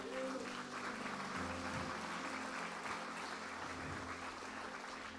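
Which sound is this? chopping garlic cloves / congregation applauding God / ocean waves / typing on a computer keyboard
congregation applauding God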